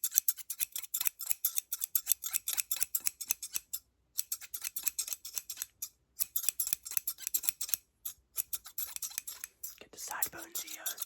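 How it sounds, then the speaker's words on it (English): Scissors snipping hair close up, rapid bursts of crisp metallic clicks with short pauses between runs, quiet and intimate, ending in soft rustling. "Got my pair of scissors here."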